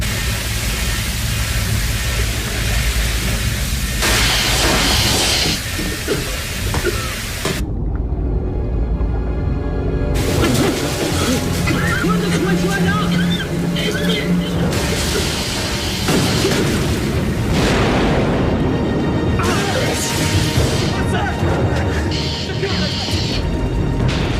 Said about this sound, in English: Explosion was on the other craft